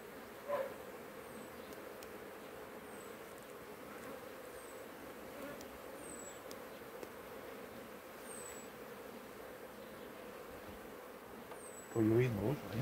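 Honeybees buzzing around an opened hive colony during an inspection, a steady droning hum with a few brief knocks and a closing burst of handling noise.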